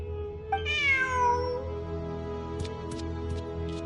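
A cat character in the video game Genshin Impact gives a single clear, rising-then-falling meow, followed by a few brief soft clicks against a low ambient game hum.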